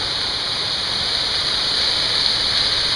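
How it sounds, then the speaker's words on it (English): Waterfall at Blackwater Falls State Park, about 35 feet of water falling in a steady, loud, hissing rush that stays even throughout with no voices. "35 feet of beautiful falling water"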